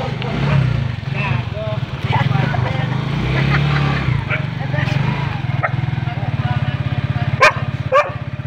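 Four dogs bark in short bursts over a low engine hum and steady background noise, with a couple of sharper yips near the end.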